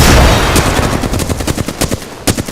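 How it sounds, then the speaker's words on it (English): A frag grenade going off in the video game Apex Legends, a loud blast that opens the clip, followed by a rapid rattle of gunfire. "Giving your frag a full toss"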